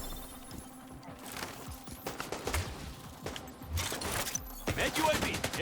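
Gunfire from a video game, delivered as scattered shots and short bursts over about five seconds, with a voice talking underneath.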